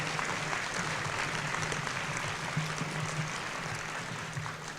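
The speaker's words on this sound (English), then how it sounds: "I think that deserves a round of applause" Audience applause at a school event at St. James, a steady wash of clapping throughout, moderately loud with a faint low hum beneath.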